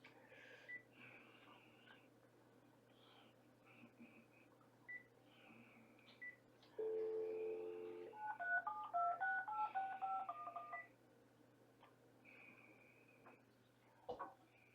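A phone dials out to a VA hospital: a quick sequence of electronic keypad tones plays mid-clip, faint background clicks and beeps around it, over a steady low hum with no talking.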